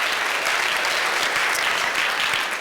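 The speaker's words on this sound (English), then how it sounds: "And everyone's applauding for We Don't Know What." A crowd at a season celebration claps for the winners, loud, dense and continuous applause that fills the room from start to finish.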